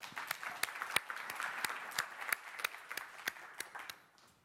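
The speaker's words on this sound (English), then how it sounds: "A round of applause for the community and the people who have put" Conference audience at H2O World 2015 applauding: distinct, fairly sparse claps close by that gradually thin out and fade to quiet.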